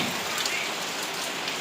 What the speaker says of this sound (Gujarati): તો પાછો વરસાદ આવી ગયો છે